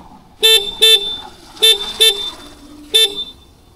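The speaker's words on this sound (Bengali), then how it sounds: "এটা হচ্ছে হর্নের একটা সাউন্ড, নর্মাল যেরকম হর্ন হয়" A Hero Xoom 125 scooter horn sounds in five short, loud toots close by, two quick pairs followed by a single blast, with quiet pauses between them.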